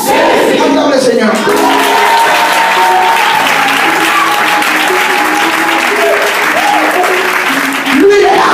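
Church congregation applauding and shouting acclamation to the Lord, a loud, dense wall of clapping mixed with voices and cries that holds steady throughout.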